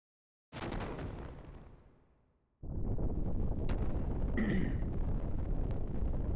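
Big explosions from the Xenogears video game boom out: a heavy blast that rumbles and fades over about two seconds, then a second sustained roaring detonation with a brief high metallic whine inside it.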